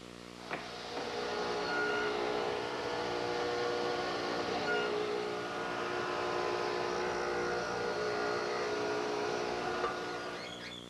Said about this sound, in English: raising the blade so that I can complete the cut at the bottom of the tenon